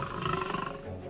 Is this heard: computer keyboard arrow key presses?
no